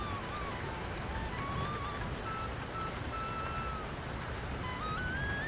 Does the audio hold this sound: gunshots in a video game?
no